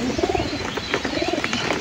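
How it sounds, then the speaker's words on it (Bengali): Pigeons in a loft of about fifteen birds coo in soft, repeated throaty phrases close by, two rolling coo calls overlapping with light rustling and faint chirps. "আর আজকে এখানে কবুতর আছে 15 পিস কবুতর আছে"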